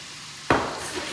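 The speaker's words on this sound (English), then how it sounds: "Nice sizzle on the garlic." Garlic hits hot olive oil with a sudden loud sizzle that keeps crackling steadily after the initial burst, close by and without any voices.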